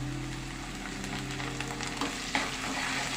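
Turmeric and coriander leaves frying in oil in a pan for a fish curry, a steady soft sizzle with a few light stirring scrapes and no voices.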